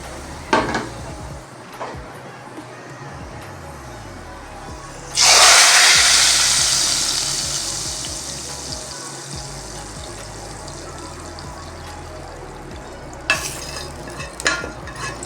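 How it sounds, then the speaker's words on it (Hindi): Spices for tadka tempering hit hot oil with a sudden loud sizzle that gradually fades to a gentle crackle, with light clinks around it, while cooking black chickpeas. "सुनिए आवाज़ आपने तड़के की कैसी ज़बरदस्त आई है"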